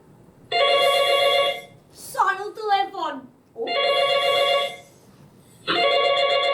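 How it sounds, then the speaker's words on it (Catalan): A telephone rings in loud, sustained bursts, three electronic rings separated by pauses, with a person speaking briefly between the first and second rings. "Sona el telèfon!"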